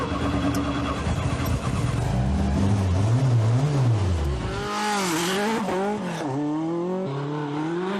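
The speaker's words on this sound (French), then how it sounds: "Mais on est au volant d'une vraie T16." A Peugeot 205 T16 rally car drives with its engine rising and falling through gear changes, loud and close from inside the car, with a voice speaking over it.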